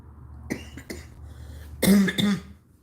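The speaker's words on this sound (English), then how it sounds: "I'm coughing too much." A few light coughs, then two strong back-to-back coughs from one nearby person before it falls quiet.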